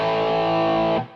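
An electric guitar plays a distorted rhythm chord through just the amp with a touch of amp reverb. It rings loud and thick, then is cut short and fades into a brief reverb tail.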